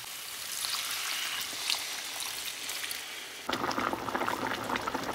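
A pot of potato and vegetable curry boils after water is added, giving a steady bubbling hiss that jumps to louder, busier popping and sputtering partway through, with no voices.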